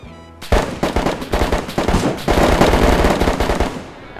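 A burst of rapid, loud, close blasts and gunfire-like cracks in the survival video game DayZ breaks out suddenly after a brief quiet moment and rattles on densely before tailing off slightly at the end.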